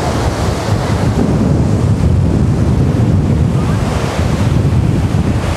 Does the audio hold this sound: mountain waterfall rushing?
yes